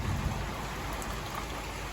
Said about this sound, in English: if we had stayed out there, we would have got rained on